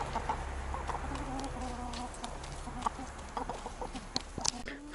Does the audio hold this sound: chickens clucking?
yes